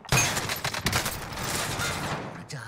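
Rapid bursts of OTS submachine gun fire in Call of Duty: Warzone crackle loudly through the whole stretch, sustained and dense, with brief pauses between volleys and a sharp onset near the start.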